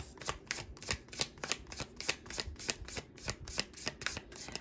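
Tarot cards riffled and shuffled by hand, a steady run of crisp papery flicks and slaps repeating close up for several seconds, with no voices.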